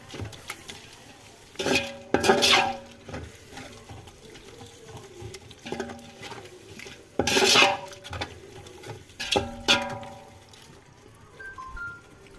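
Chicken biryani masala with yogurt for a village-style country chicken biryani is stirred in a metal pot, with wet scraping, rubbing, and clanking strokes that come in bursts between quieter pauses.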